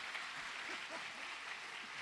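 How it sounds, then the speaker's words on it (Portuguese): A church congregation applauds at a revival service, with faint, distant, continuous clapping forming an even wash and no clear breaks. "Dá um aplauso ao Senhor também para mim."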